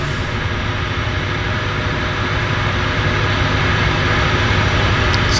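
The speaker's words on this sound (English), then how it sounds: "We have up here in the downwind there, a turbo otter." A de Havilland Turbo Otter floatplane flies over the downtown Vancouver harbour. Its turboprop makes a loud, steady, broadband engine roar that fills the whole stretch without a break.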